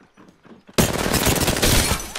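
Gunfire in the battle royale game Apex Legends, a sudden loud burst of rapid automatic shots erupting after near-quiet and continuing steadily to the end.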